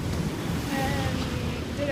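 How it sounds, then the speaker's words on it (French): Wind gusting outdoors on a road trip in Japan's Kansai region, a continuous rough buffeting roar across the microphone from start to finish. "il y a du vent"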